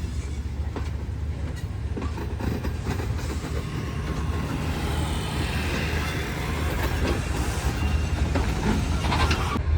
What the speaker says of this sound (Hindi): पाकिस्तान का सबसे ज़्यादा ताकतवर लोकोमोटिव है ये, और ये कराची एक्सप्रेस को खींच के ले जा रहा है लाहौर के लिए